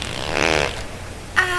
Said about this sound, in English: One more fart.